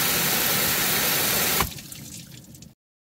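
Water sprays hard over the hood and right fender of a Fisker car during a leak test with a wheel-well barrier fix, a loud steady hiss that drops to a quieter trickle and then cuts off.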